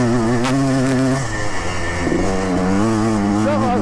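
Yamaha Blaster 200 quad engine revving up and down close by, a loud continuous buzzing drone with shifting pitch throughout.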